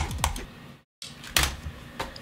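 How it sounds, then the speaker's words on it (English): Hard mouse clicks while playing Geometry Dash: a few sharp, close taps separated by short gaps, with a brief dropout to silence in the middle. "I feel like I'm clicking unnecessarily hard."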